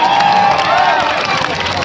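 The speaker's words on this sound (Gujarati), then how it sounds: "અમદાવાદની પોલીસ માટે જોરદાર તાળી બજાય।" A large crowd at a fair cheers and shouts loudly for the Ahmedabad police, with a dense roar of voices, whistle-like tones and scattered clapping close by.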